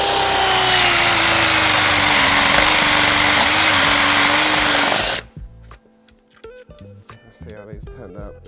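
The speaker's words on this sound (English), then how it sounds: "Changing this drill bit out for a smaller one" A power drill whines loudly and steadily for several seconds while cutting an old skateboard, then stops abruptly, followed by quiet handling noises and clinking.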